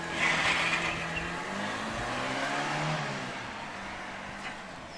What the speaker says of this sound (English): you also heard the sound of me driving away